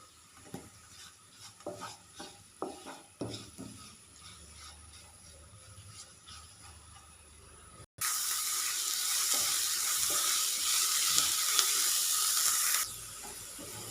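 Sliced onions with salt and curry leaves cook in a pan for a soya chunk roast. Scattered spatula scrapes come first, then a sudden loud, steady sizzle that holds for several seconds and then eases.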